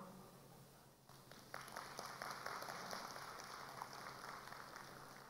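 An audience at a seminar panel applauds to welcome a speaker, a faint, distant patter of many hands that swells after a quiet start and keeps going evenly.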